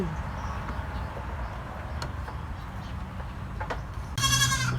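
Goats in a shed on a rainy day give one loud, close bleat near the end, after a stretch of quiet background with faint clicks and knocks.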